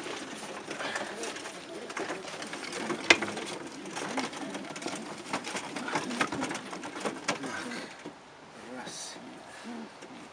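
Racing pigeons coo steadily in a cage, a low throaty murmur running throughout, with rustling, shuffling and light knocks from the birds close by and no talk.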